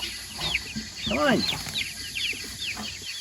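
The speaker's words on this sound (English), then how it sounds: "We got little chickens in the tractor." Young chickens kept in a chicken tractor peep and cluck close by in overlapping calls, with one louder squawk, while a person speaks briefly.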